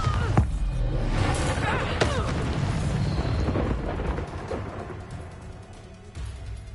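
A Bombarda blasting spell in the wizard game Hogwarts Legacy erupts in a loud, sustained explosive roar with a sharp crack early on, then rumbling debris that slowly fades.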